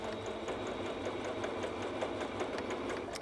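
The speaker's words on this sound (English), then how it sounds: "just sew a basting stitch all the way down the top fold of your strip of fabric" A sewing machine runs a basting stitch along the top fold of a fabric strip, a steady, fast mechanical whir with regular ticking needle strokes, close and continuous throughout without pause or talk.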